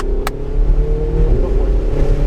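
Car accelerating on a race course with cones, engine note rising and wavering under throttle, loud and close, with a short sharp click near the start and a voice talking over it.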